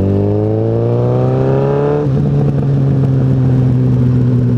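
A 2014 Suzuki Hayabusa GSX1300R with an aftermarket Kaufman exhaust accelerates hard. The loud, close engine note climbs steadily in pitch, drops sharply at a gear change, then pulls again with a deep roar and wind rush.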